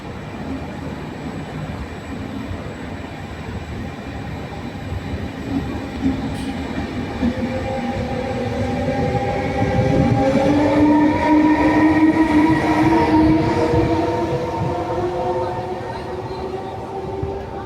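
A train pulls out of Pontedera Casciana Terme station, a loud continuous rumble of rolling wheels with rising engine tones that swell as it gathers speed, steady and close with no talk over it.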